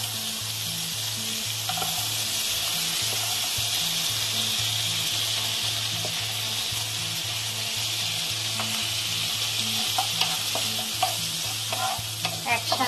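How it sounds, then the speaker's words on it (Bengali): Beans and carrots frying in a pan for street-style chicken soup are stirred, giving a steady loud sizzle with scraping of the spoon throughout and faint clinks near the end. "একসাথে সবকিছু ভালোভাবে নাড়াচাড়া করে নেব।"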